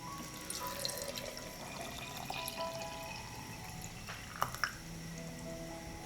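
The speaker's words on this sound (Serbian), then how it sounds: "Koru banane preliću sa pola litre vode." Water pours and trickles faintly into a jar of chopped banana peels, a soft steady liquid wash with a couple of small splashy drips near the end.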